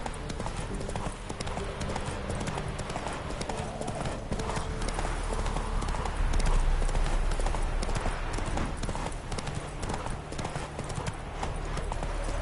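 A horse gallops in The Witcher 3 video game, its hooves clip-clopping in a fast, steady rhythm throughout, close and loud, with game sounds and a voice mixed in underneath.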